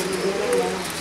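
Grivas pigeons in a cage coo softly and close, a short, low burbling call with a gentle wavering rhythm, while a person talks faintly in the background.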